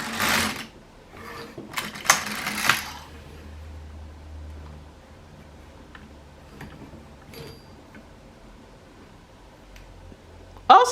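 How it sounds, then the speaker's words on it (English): LK150 knitting machine carriage knitting short rows backward across four needles, heard as a few quick rattling, clicking passes near the start, then a quiet stretch with scattered light ticks and a final clack at the end. "So I'm going to knit backward 4 needles"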